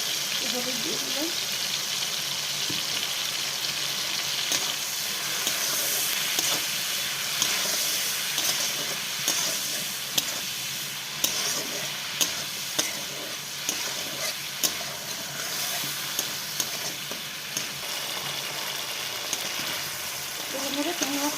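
Small shrimp sizzle in hot oil in a wok while being stirred, a steady close frying hiss broken by regular scraping and clacking of the utensil against the pan.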